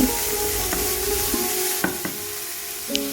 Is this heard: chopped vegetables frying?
yes